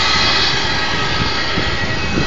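Airplane engine drone, a steady loud roar holding constant through the short stretch with no voices.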